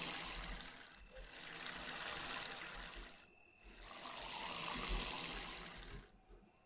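Plants are watered in Weed Farmer Simulator, a soft steady pour of water running in two long stretches with a short pause between, faint and close with no talk.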